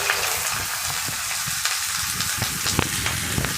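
Chopped onion sizzles and fries in hot oil in a wok, a steady close crackle with occasional sharper pops and stirring clatter throughout, no voices.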